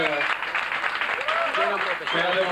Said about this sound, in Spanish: Un aplauso para Suso Soya,